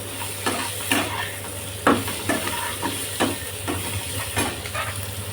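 Potatoes frying and being stirred in oil for a fish curry, with a constant close sizzle broken by rhythmic scraping stir strokes every second or so.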